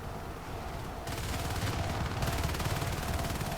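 Sustained rapid gunfire in the video game Natural Selection 2, a dense continuous rattle of shots that grows louder and busier partway through, heard alone.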